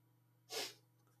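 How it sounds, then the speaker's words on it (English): A single sharp sneeze bursts out close by, brief and loud, against a low steady hum. "Gotta sneeze"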